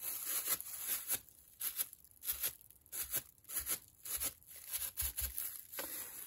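A plastic bag is pressed and crumpled against a gel printing plate, giving close, repeated crinkling and crackling bursts in an uneven rhythm.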